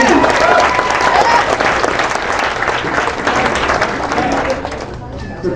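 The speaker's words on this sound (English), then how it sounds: "Round of applause, please." Dinner audience bursts into loud, dense applause with some cheering, sustained clapping that tapers slightly toward the end.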